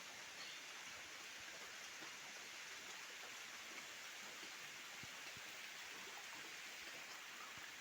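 Steady rain falls in a forest, a soft, even hiss of drops with scattered faint taps, distant and uniform throughout.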